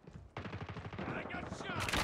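Rapid bursts of automatic gunfire in the mobile shooter Call of Duty Mobile on the Nuketown map, loud and close, with a brief quiet lead-in and sustained firing that intensifies toward the end.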